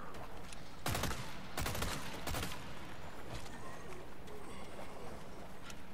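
Chicago Typewriter submachine gun in Resident Evil 4 fires in a few sharp bursts early on, followed by quieter scattered game sounds and faint background noise.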